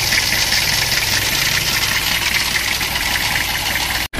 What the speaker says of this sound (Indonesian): Jadi kita panasi dulu di mesinnya